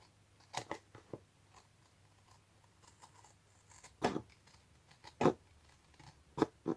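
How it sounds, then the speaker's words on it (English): Scissors snip a small piece off the top of a glued craft item, a few sharp isolated cuts spaced out over several seconds, close and fairly quiet with no talking. "I am going to just cut a tiny bit off from the top"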